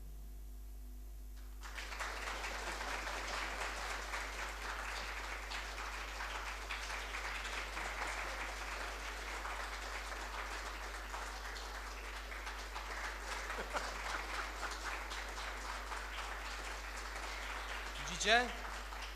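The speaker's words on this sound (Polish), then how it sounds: "jak ja się kłaniam, to Państwo klaszczecie" Audience applause at a swing quintet concert, a steady, moderate wash of clapping from a seated crowd that continues for most of the stretch, with a brief louder knock near the end.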